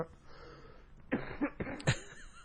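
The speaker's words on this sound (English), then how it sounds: "At least I'm not coughing right into the microphone." Three or four rough, breathy coughs in quick succession, close and moderately loud, over faint background hiss.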